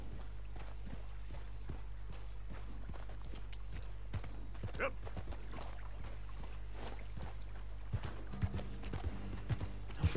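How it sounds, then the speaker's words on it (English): Hooves of a Shire horse clip-clopping at a slow prance in Red Dead Redemption 2, a light steady patter of footfalls over a constant low game hum, with a few louder thumps near the end. "Prancing Shire Horse."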